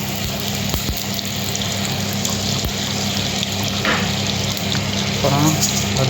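Butter, about two spoonfuls, frying and sizzling steadily in a hot pan while Irani rice is being prepared, a dense continuous crackle close to the mic with a few faint clinks.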